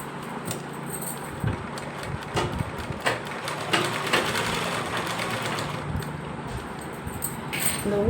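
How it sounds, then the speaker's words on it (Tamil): A sewing machine stitches a lined blouse, running in a steady mechanical whir with brief pauses and small clicks, close by and fairly loud, with no talk. "அப்புறம் தான் மிஷின்லேயே தச்சு விடுற இதை பழகியாச்சு"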